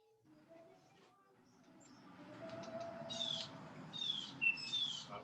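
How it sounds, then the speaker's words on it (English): Birds chirp outdoors in a series of high, bright tweets over the second half. A low rumble and a faint murmur of voices sit beneath them. "Rick, you're gonna have to turn your birds off"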